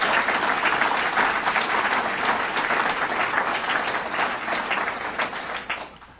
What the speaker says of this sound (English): Leslie Watley, let's give her a round of applause.